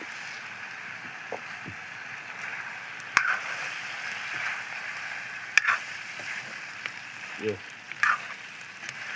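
Local rooster chicken fries in a pan with cumin-garlic-chili paste and spices, giving a steady, close sizzling hiss broken by sharp pops and spatters. A voice speaks briefly now and then over the frying.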